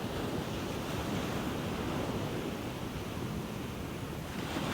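Ocean surf rolls in as a steady, powerful wash of water, loud and continuous with some wind rumble, and no voices.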